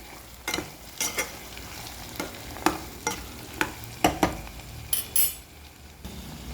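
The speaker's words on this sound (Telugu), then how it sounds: "ములక్కాయ ముక్కలు వేసుకోవాలి" Pieces of drumstick (moringa pod) go into a hot pan for a drumstick cashew curry, giving a run of sharp clattering knocks and stirring clinks over a low, steady sizzle.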